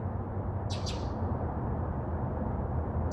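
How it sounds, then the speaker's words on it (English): An outdoor bird gives two quick high chirps that stand out faintly above a loud, steady wash of broadband background noise. "Listen to that bird."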